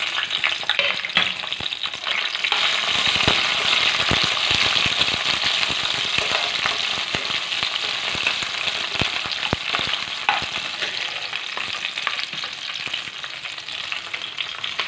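About ten green chillies fry in hot oil already used for frying, making a loud, dense, crackling sizzle that runs steadily throughout, with frequent pops and spatters close to the pan. No one speaks.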